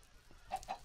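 Chickens in Minecraft with the Better Than Wolves mod give a few soft, short clucks in quick succession, faint and close with no talk.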